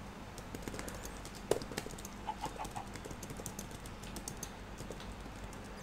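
Keys tapped on a computer keyboard in a quiet room, sparse and light, with one sharper clack early on and soft irregular taps after it.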